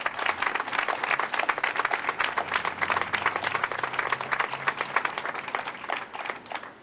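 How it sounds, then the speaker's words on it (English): Steady applause from a crowd at a Burlington mayor's press conference celebrating the completion of Main Street, dense and sharp clapping that stays even for several seconds with no talk. "So please give the businesses and the community a round of applause."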